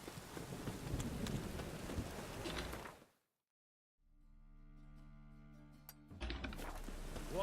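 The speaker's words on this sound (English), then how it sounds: "A storm, damn it." Heavy rain and rumbling thunder in the open world of The Witcher 3 pour loudly, cut to near silence around three seconds, return beneath a steady tonal game drone, then burst back at full strength.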